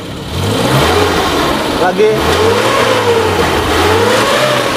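The engine of a 2002 Suzuki Carry Futura van revs up and down repeatedly, its pitch rising and falling in waves, up close near the exhaust, with a brief spoken word over it.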